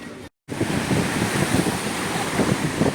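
Sea waves wash onto Sunny Beach on an August morning, a steady nearby surf rush mixed with heavy wind buffeting the microphone after a brief silent gap at the start.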